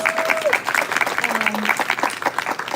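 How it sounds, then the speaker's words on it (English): A crowd applauds at a live event with a U.S. congresswoman, clapping that is close and lively and rises and falls in waves, with a few faint voices mixed in. "Give yourselves a round of applause."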